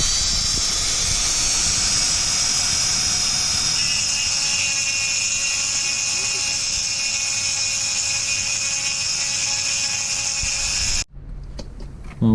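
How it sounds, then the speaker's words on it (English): A Dremel rotary tool with a grinding bit works on an Akrapovic Racing exhaust baffle from a Honda CB650R, a loud, steady high whine that runs unbroken for about eleven seconds and then cuts off abruptly. "So here's my Dremel with a grinding bit"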